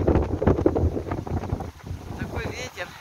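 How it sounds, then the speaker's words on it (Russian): Strong gusty wind buffets the microphone on a city street walk on a +7 degree day, roaring loudly in uneven bursts and easing briefly toward the end. "Такой ветер."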